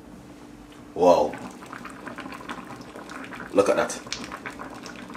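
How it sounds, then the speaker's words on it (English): A pot of vegetable soup bubbles and burbles at a rolling boil, with two louder gurgling bursts and a voice speaking briefly over it. "that beautiful boiling"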